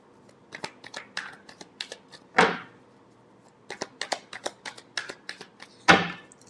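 Tarot cards are shuffled by hand in two bursts of quick riffling flicks, each ending in a louder sweeping riffle, close and crisp with quiet gaps between.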